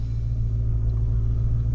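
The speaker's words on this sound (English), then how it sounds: "Car's still running." Steady low rumble of a car engine idling while parked, continuous and even with no revving, fairly close.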